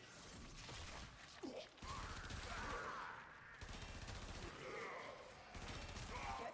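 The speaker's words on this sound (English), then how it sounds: "taking some bullets. Who's shooting at me?" Gunfire in the Warframe video game aimed at the player, heard as scattered bursts and mechanical clatter mixed with game sounds and effects at a moderate, steady level.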